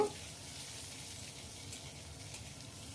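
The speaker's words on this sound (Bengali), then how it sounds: "এবার আলুগুলোও আমি একটু ভালো করে ভেজে নেব" Thick-sliced potatoes frying in mustard oil make a faint, even sizzle that holds steady for a few seconds, with no one talking.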